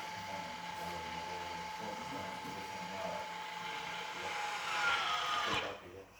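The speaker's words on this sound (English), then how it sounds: "it's disengaging from the wheel, and on the controller it's just going through its cycle" A caravan motor mover on a 2007 Bailey Pageant Champagne disengages from the wheel, a steady mechanical whir with ratcheting gear noise and a rising whine before it stops, close by and moderately loud.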